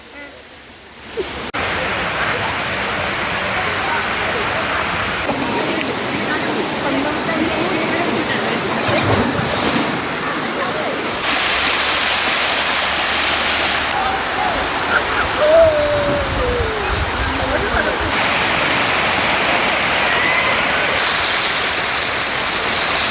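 A waterfall roars in a constant, dense rush of water throughout, with occasional faint voices mixed under the steady noise.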